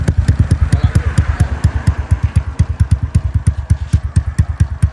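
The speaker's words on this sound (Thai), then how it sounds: "นี่เครื่องติดแล้ว มาฟังเสียง มาฟังเสียงท่อก่อน" A Yamaha RG motorcycle engine idles close by with a steady, rapid thumping exhaust pulse, loud and even throughout, no voices.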